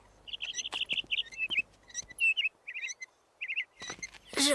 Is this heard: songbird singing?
yes